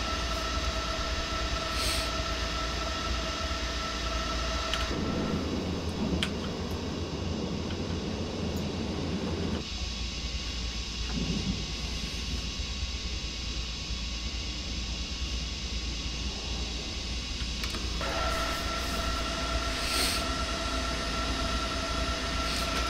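An Intercity 132 train runs in Train Simulator 2018, a continuous rumbling roll of wheels on track with steady mechanical hum and a brief rougher rattle midway.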